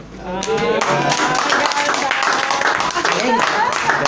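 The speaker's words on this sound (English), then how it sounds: "Let's give Darren another big round of applause" Audience at a Toastmasters club meeting in Manila bursts into dense clapping that starts abruptly and holds steady at close range, with voices mixed into the applause.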